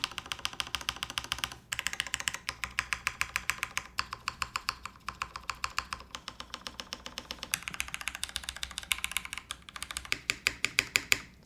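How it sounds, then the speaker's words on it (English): Brisk typing on a Milan TKL mechanical keyboard, a steady run of close, crisp keystroke clacks with occasional heavier thocks from larger keys, continuing alone without talk. "the Alpha spacebar, to me, sounds really nice"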